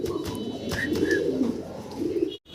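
A pair of Mong pigeons cooing in low, soft, repeated notes at close range, with faint higher chirps from other birds behind them and a brief drop-out near the end.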